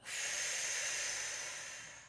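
A single long, breathy exhale during a yoga exercise, close and soft, hissing steadily for about two seconds and fading slightly at the end with no talk.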